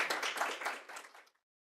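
A single person claps their hands at a midwifery education event, giving a brisk run of close, quick claps that stop suddenly and leave silence.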